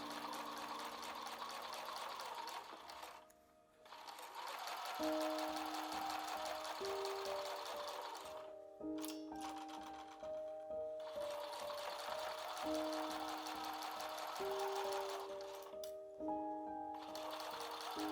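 A sewing machine stitches triangular fabric pieces together for a shoulder bag. Its rapid needle rattle runs in long, steady, close bursts, broken by a few short pauses where the fabric is shifted.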